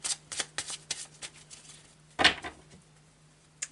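Tarot de Marseille cards are shuffled by hand in a quiet room, a series of crisp riffling bursts and soft slaps with one louder flurry midway, close and clear with no talking.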